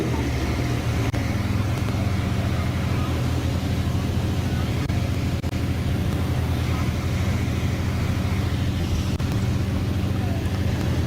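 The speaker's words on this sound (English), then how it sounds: "It's a Chenoweth DR2 from 1989. Vintage 4-cylinder buggy class." Vintage 1989 Chenoweth DR2 four-cylinder buggy racing on a beach, a steady loud engine drone with wind buffeting the microphone throughout, no speech.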